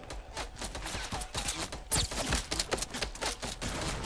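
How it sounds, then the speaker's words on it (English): Video game gunfire crackles in quick, dense rattling bursts, fairly faint and somewhat distant, with rapid clustered shots throughout. "there's people at stable shooting at me"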